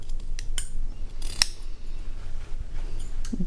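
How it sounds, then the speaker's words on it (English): Scissors snipping slits and trimming seam allowances on a sewn neck pillow, with a few close, crisp metallic snips scattered over soft handling noise. "I like to trim them a little bit, and where you see the corners, cut some slits."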